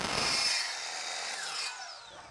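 A SawGear-guided saw slicing through a wood piece at a set miter angle, a close broadband whine that starts strong and gradually fades over two seconds as the blade spins down, with no talking.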